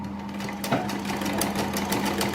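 A sewing machine stitches along an existing seam on a kurti sleeve with a half-inch margin, whirring continuously at close range in a fast, even rhythm.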